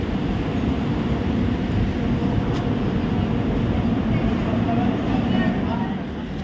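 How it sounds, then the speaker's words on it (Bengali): The Howrah–Ranchi Shatabdi Express rumbles past at close range, a dense, unbroken roar of wheels and carriages that stays loud and steady throughout. "হাওড়া রাঁচি শতাব্দী এক্সপ্রেস এই মুহূর্তে আপনাদের সামনে"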